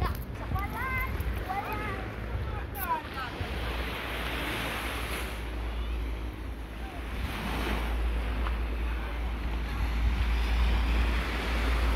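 Surf rolls and washes steadily onto a rainy beach by a stretch of palm trees, mixed with gusty wind rumbling on the microphone, with a few brief voices early on.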